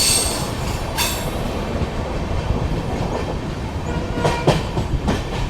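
Kolkata Sairang Express train pulling out of a curved station in the ghats, with a steady rumble of rolling railcars, rhythmic wheel clatter and sharp wheel squeals near the end, close and continuous with no talking.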